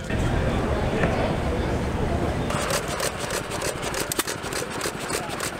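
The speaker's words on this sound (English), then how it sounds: "They're using those little engines there to make ice cream." Small engines drive ice cream makers at a farm show, giving a steady mid-pitched idling hum with a rhythmic rattling chug and sharp clicks in the second half, close by and continuous.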